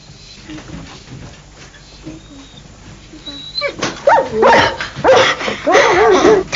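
A dog in a domestic home gives soft yips and whimpers, then breaks into louder close barks and yelps in uneven bursts, with people talking faintly underneath.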